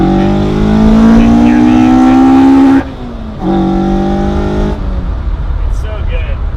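A Toyota AE86 engine revs hard while driving, its naturally aspirated intake roaring loudly and dropping briefly as the throttle lifts before building again, with a Corvette nearby.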